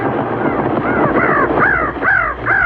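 Crows caw in a radio drama sound effect, a series of four or five loud, close, harsh calls over a rushing wind-like background.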